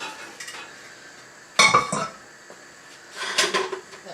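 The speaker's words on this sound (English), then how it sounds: "So I'm just going to get myself a saucepan" Metal kitchen pans clatter and clank as a saucepan is pulled out, with a sharp loud bang in the middle followed by rattling, then another burst of scraping metal near the end, close and alone.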